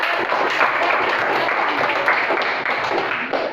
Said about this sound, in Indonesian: Benar, kasih tepuk tangan.